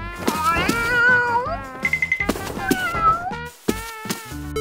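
A cat lets out a string of loud, close meows in varied pitches, some drawn out and some clipped short, with a few brief gaps between calls.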